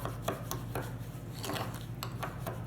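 Meatball mixture with Worcestershire sauce and vinegar is worked together in a bowl, producing repeated soft wet squelching and scraping strokes at an irregular steady rhythm, close and fairly quiet.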